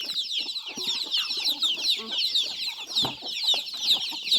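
A close, busy flock of chickens and ducks clucks nonstop while an elderly woman feeds them in the evening, the overlapping calls forming a steady, lively chatter.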